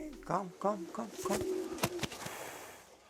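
Racing pigeons coo in soft, repeated throaty bursts close by, with a few clicks and flutters mixed in.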